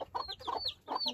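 A chicken on a small family farm in the US gives three quick, close clucks in an uneven rhythm, each a short rising-and-falling squawk, with no talk over them.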